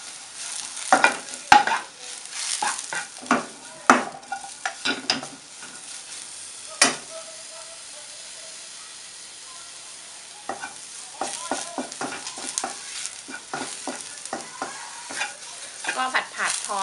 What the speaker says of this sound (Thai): ก็ผัดพอให้เห็ดเขา ส่งกลิ่นหอมนะคะ